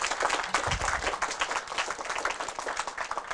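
Audience applause fills a campaign kickoff rally for a New York State Senate race, steady and dense clapping from a crowd throughout, fairly close and continuous with no speech over it.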